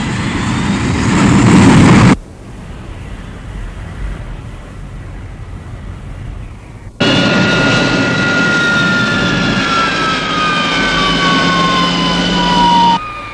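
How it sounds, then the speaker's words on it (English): A jet aircraft comes in to land with a roaring, whining engine whose tones slide downward. A sudden cut leaves a quieter rushing stretch, then a loud jet whine returns and holds steady to the end. "Brake parachute."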